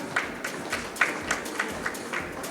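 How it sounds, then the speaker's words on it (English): An audience at an energy conference session claps for a speaker, a modest, fairly sparse patter of hands with a few distinct claps rising and falling over a couple of seconds. "please give a big round of applause for Mr. Jagannathan"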